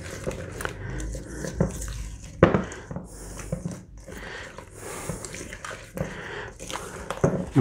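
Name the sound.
mixing Waldorf salad with lemon juice in a bowl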